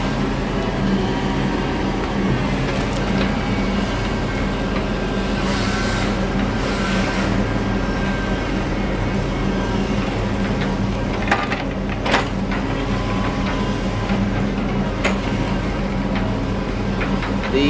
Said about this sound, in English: 853M track feller buncher, which is what I am on right here